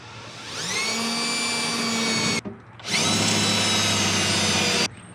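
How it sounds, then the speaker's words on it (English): A power drill bores holes while fitting a second battery to a dump trailer, two loud sustained whirring bursts with rising pitch, split by a brief pause, close up with no talking. "we've drilled those 2 holes"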